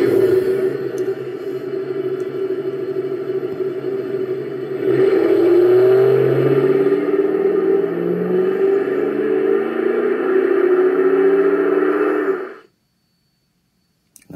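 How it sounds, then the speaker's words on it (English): Recorded engine start-up played by a Shelby GT500 Mustang desk lamp in demo mode: a loud, close idle rumble surges into revving around five seconds, holds for several seconds, then cuts off abruptly. "if you flip the switch all the way over to demo mode, it will sound like a car starting up."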